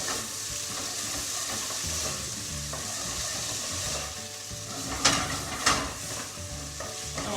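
Onions sweating down in a pan for a bolognese, a continuous close hiss of sizzling with a couple of louder stirring scrapes near the end, steady and unbroken, with no voices.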